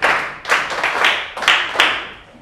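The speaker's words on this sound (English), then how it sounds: "A round of applause for him." A class of pupils clapping together in the classroom, a patterned applause of crisp, nearby hand claps arriving in several evenly spaced bursts, clear and loud with no talk.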